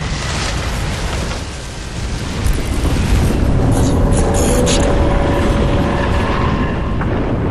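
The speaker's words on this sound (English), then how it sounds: "Explosion imminent." A loud, rumbling explosion in Crysis 2 roars with a sustained low blast and crackling debris, with no talk throughout.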